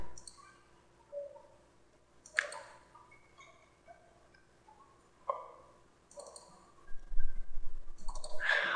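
Mouse clicks while editing in Camtasia Studio 7 on a computer, a handful of sharp isolated clicks spaced irregularly over quiet room tone, with a louder cluster of clicks and handling noise near the end.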